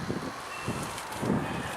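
Wind outdoors near a rooftop bird loft, a soft, steady rushing with faint gusty swells and microphone buffeting, fairly quiet and with no talking.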